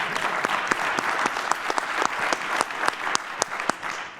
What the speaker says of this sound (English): clap it up for them.